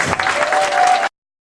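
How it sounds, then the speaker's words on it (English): Audience applause for Evanna Lynch and Robbie Jarvis at a convention VIP panel, a loud, dense crowd clapping for about a second before cutting off abruptly. "Can I please get a big round of applause for Evanna Lynch and Robbie Jarvis."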